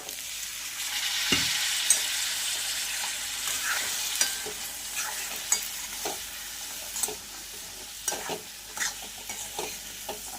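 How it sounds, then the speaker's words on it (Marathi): Boiled chickpeas fry with turmeric powder in a pan, a soft continuous sizzle broken by repeated scraping and clinking strokes of a spoon stirring, close and without talk. "आणि छानपैकी असं फ्राय करून घेणार आहोत"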